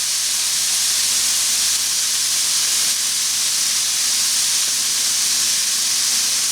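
Corned beef pasty filling sizzles in a hot pan, giving a loud, steady frying hiss that runs unbroken throughout, with no voices over it.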